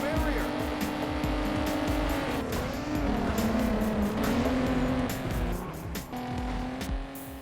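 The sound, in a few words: car racing sounds from the PSP video game Juiced 2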